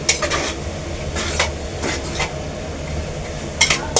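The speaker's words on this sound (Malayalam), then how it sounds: "സമൂസൻ്റെ ഉള്ളി വാട്ടിക്കൊണ്ട് നിൽക്കുകയാണ്." Onions for samosa filling are sautéed in a pan with a low steady sizzle, punctuated by several sharp scrapes and clinks of a spoon against the pan.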